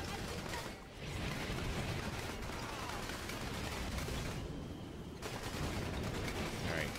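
Dense, continuous gunfire and explosions from the Battalion Wars video game roar loud and close, a nearly unbroken barrage with brief dips.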